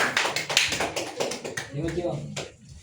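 A group claps together in a classroom, quick scattered hand claps over a few seconds with some voices mixed in.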